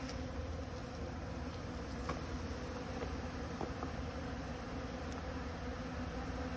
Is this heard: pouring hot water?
no